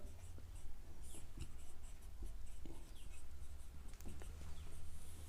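Marker or chalk strokes scratch across a board during a math class on matrices, soft and steady against a low background hum, with scattered short taps.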